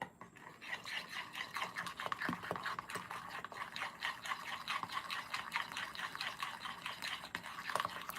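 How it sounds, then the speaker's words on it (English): Candy melts being stirred in a pot, a soft continuous scraping and rubbing with a rhythmic swishing texture, close and fairly quiet, with no talking. "Give that a little stir."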